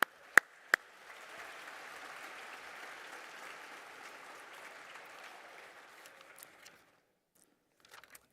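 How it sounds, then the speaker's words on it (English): Audience applause for honorees at the Broken Arrow Public Schools Pinnacle Awards ceremony, a steady, moderate clapping from a seated crowd lasting about six seconds after two sharp knocks, then fading to silence. "Let's give them a hand."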